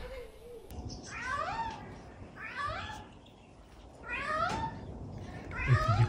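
A Eurasian jay mimics a cat's meow, producing four drawn-out, wavering meow-like calls spaced about a second apart, faint to moderate and fairly close, with no voices over them.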